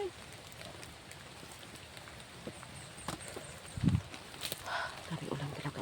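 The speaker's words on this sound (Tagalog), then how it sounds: "Grabe ulan talaga." Heavy rain pours as a constant broadband hiss, with scattered louder knocks and a few voices talking over it.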